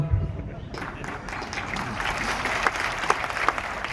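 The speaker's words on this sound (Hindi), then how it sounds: "आप तालियां क्यों मार रहे हो यार," An audience claps through a motivational life-story talk, a dense, even wash of applause lasting several seconds with a few sharper claps standing out. Talking is heard alongside it.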